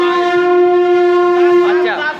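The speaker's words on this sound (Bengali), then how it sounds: "এখন ট্রেন এসে দাঁড়ালো বর্ধমান জংশনে" The 12345 Saraighat Express arrives at Bardhaman Junction, platform 2, with a loud, sustained tonal horn holding steady for about two seconds, then wavering and trailing off as other station sounds rise.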